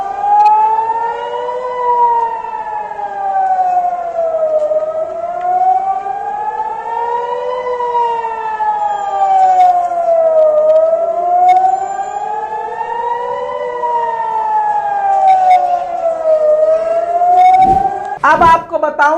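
A civil defense siren in Israel wails loudly, slowly rising and falling in repeated cycles, with a few sharp noises near the end.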